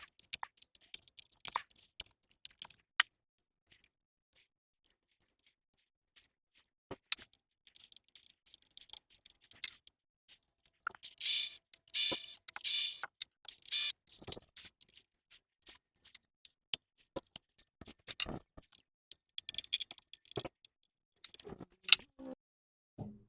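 An M7 socket works loose the coil packs on a Jaguar XK8 V8 engine. Sparse metallic ticks and clicks are scattered through near-silence, with a brief burst of quick ratcheting midway.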